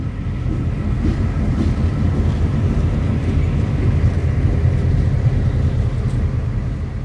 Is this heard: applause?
no